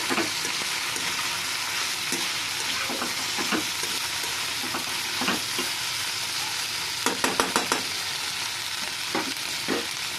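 Prawns with chopped onion greens fry in an open pan, a dense continuous sizzle up close, punctuated by irregular spoon scrapes and quick clatters, including a rapid burst of stirring knocks late on.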